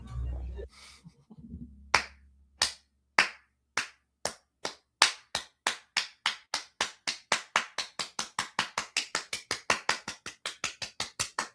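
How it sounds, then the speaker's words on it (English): After a stand-up comedy set, murmured voices give way to steady, evenly spaced hand claps. The claps are sharp and close, at a quickening pace, and sound like one or a few people rather than a full crowd. "Round of applause."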